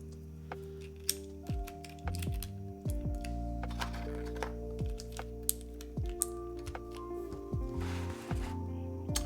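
A Mode SixtyFive keyboard with lubed and filmed Hyperglide switches and swapped springs is typed on in irregular bursts of muted, thocky keystrokes. The sound is close and fairly quiet, with short pauses between runs.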